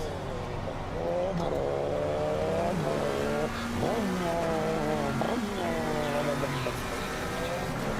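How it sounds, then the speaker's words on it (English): An iconic Australian V8 racing car's engine revs loudly and close by, rising and falling in repeated sharp bursts that swing between high and low pitch. "But I think he's found a V8."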